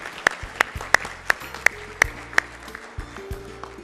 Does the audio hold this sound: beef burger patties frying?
no